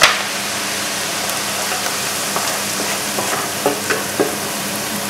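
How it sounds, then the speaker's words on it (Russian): Onion fries in oil in a pan with a steady, loud, even sizzle throughout, and a few faint taps of stirring rise above the hiss. "обжариваем маслом"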